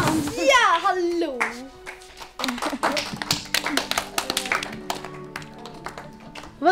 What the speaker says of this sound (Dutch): Mag ik u daarvoor een applaus?